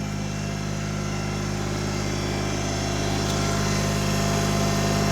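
A Kubota tractor engine running steadily close by, a continuous loud droning hum with fixed tones and no change in pitch, heard alone without talk.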